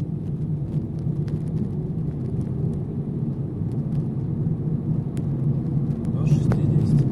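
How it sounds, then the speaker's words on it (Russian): Car accelerating up to about 60 km/h on city streets in Khabarovsk, a steady engine and road rumble building slightly toward the end, heard from inside the vehicle. "Разгоняем машину."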